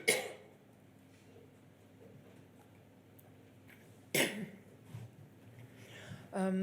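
A single sharp cough bursts out near the middle, followed by a quieter rustle and another short throaty burst at the end, over a low background hum.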